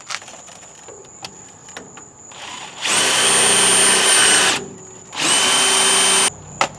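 Steel bolt being drilled with a cobalt bit on a 1976 GMC motorhome: two sustained loud bursts of power drill whine, each a couple of seconds, with quieter tool handling and clicks before and between them.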